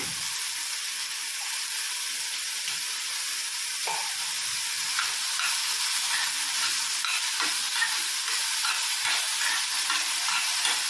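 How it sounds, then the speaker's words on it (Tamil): Mushrooms sizzle steadily in a pan with Italian seasoning and chilli flakes, a dense, continuous hiss of frying that holds at a constant level throughout, with occasional faint stirring clicks and no voices. "இது லைட்டாக வதங்கட்டும்"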